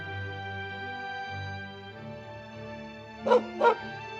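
Two quick dog barks ring out near the end over a steady background hum.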